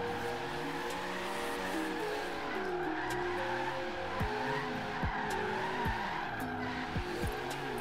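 A Toyota AE86 built for B-class drifting in Forza Horizon 3 slides on its tires, with long repeated skidding squeals over a steady engine drone and sharp screeches near the end.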